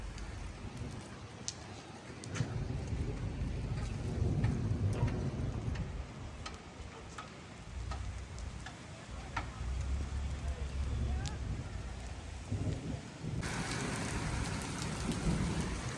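Steady rain patters down on tin sheets throughout, with occasional low rumbles and voices talking faintly in the background.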